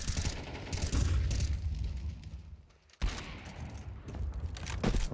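Gunfire in a professional Counter-Strike match, a muffled rumble of shots and bursts that drops to near quiet for a moment, then resumes, with no talk.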